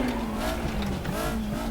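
A naturally aspirated, front-wheel-drive Group 2 Volkswagen Scirocco race car screams at high revs in the RaceRoom video game, its pitch rising and dipping through gear changes with some tyre squeal, loud and close throughout.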